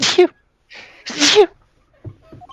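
Two sharp sneezes burst out about a second apart, close and loud, followed by a short spoken voice.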